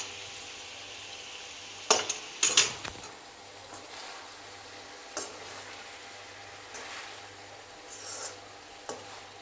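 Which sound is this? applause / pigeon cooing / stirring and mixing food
stirring and mixing food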